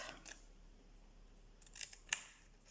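Scissors snip small squares from paper close by, a couple of soft cuts and then a sharper crisp snip near the end in a quiet room.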